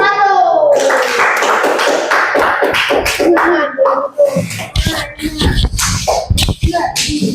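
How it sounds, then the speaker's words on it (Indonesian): A group in an Indonesian classroom or workshop session gets a round of applause, with dense clapping mixed with voices and shuffling and a speaking voice rising above the claps at the start. "Silakan berikan tepuk tangan untuk"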